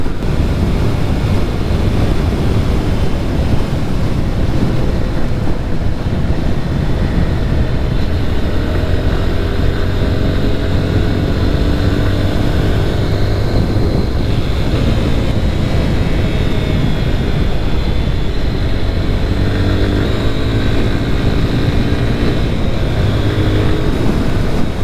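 A Lifan KP Master (KPM200) 200cc motorcycle engine drones loudly and steadily while riding through city traffic, its pitch rising and falling as it shifts through gears.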